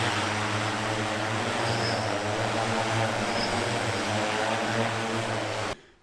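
A homemade manned electric multirotor drone of over 55 pounds, flown on a tether, gives a loud, steady propeller drone and buzz close by for several seconds before cutting off abruptly.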